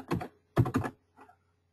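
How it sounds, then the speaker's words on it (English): Typing on a computer keyboard, a few quick clusters of close key clicks and clacks separated by short pauses, with a fainter tap at the end. "I'm going to type in Almond Avenue"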